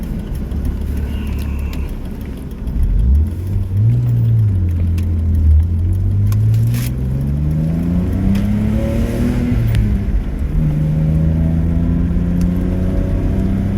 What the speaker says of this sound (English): Currently on a test drive to see how this car drives